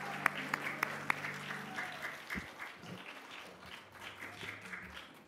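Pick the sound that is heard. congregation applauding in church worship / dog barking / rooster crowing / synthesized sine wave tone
congregation applauding in church worship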